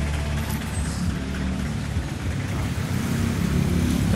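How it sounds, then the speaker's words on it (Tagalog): Heavy road traffic in a jammed commuter street, with jeeps and other vehicles, gives a dense, continuous rumble of idling and slowly moving engines, loud and steady throughout without speech. "Traffic na."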